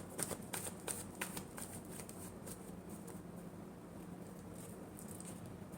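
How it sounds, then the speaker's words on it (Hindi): Tarot cards being shuffled in a quiet room: a steady run of soft, papery riffles and flicks, close and fairly faint, with no voices over them. "Last shuffle."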